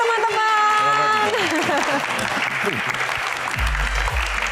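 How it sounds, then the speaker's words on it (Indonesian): An evening audience applauds loudly to welcome a guest star, dense clapping that starts at full strength and holds steady, with a voice speaking over the start. "Tepuk tangan yang paling meriah untuk bintang tamu kita pada malam hari ini"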